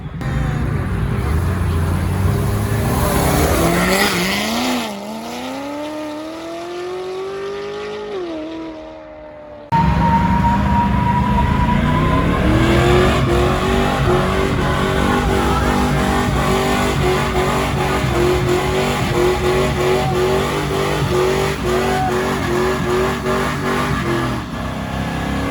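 A Ford Mustang does a burnout at a busy car meet, its engine roaring and revving hard with screeching tires. After a brief dip the roar surges back loud and sustained, and a crowd can be heard faintly beneath it.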